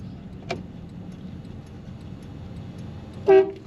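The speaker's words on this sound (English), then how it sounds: "Factory horn is working well." The factory horn of a 1949 Ford Tudor sedan gives one short, loud honk near the end, after a single faint click and quiet idling background.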